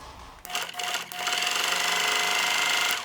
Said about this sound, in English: I'm just going to stitch it next to the folded line.